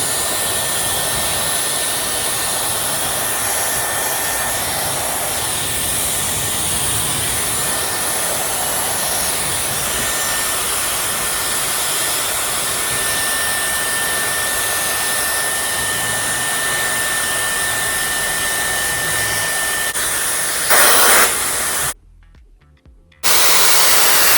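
A Dyson Airwrap or Shark Flexstyle hair styler blows air in a steady, loud whoosh for about twenty seconds, then cuts out briefly before starting again.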